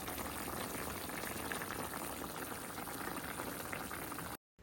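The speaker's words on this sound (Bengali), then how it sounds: "2-3 মিনিট জাল করে নেওয়ার পর জিরে ও গরম মশলা গুঁড়ো দিয়ে নামিয়ে নিব।" A thick curry of lentil fritters, potato and fried aubergine simmers in a pan, a dense, continuous close bubbling that cuts off abruptly at the end.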